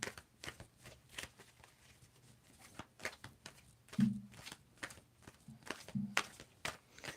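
Tarot cards are shuffled by hand during a reading, giving a run of quick, crisp riffling bursts at an uneven rhythm, close and fairly quiet, with soft handling noises in between and no talk.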